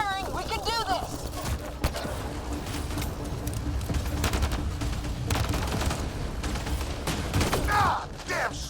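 Sustained gunfire in a Mass Effect Andromeda firefight, rapid bursts and overlapping shots rattling steadily across the clip, with mechanical clatter and bits of shouted voices under the shooting.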